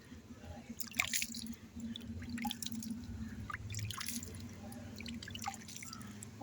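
Water is poured onto washed turmeric, giving irregular splashes and drips in short bursts over a low background hum, close and fairly quiet.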